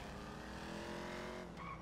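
A car drives through Grand Theft Auto V: a steady engine hum sits under a faint tire squeal near the end. The sound is fairly quiet and unbroken.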